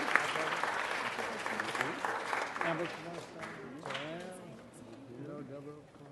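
A council meeting audience applauds, dense clapping spread through the room, fading slightly toward the end while a voice talks over it.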